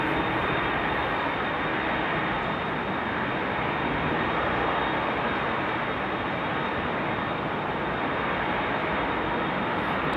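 A KLM Embraer E190 airliner arriving at Amsterdam airport after a storm, with a loud, continuous broadband engine roar that holds steady throughout, dominating the recording.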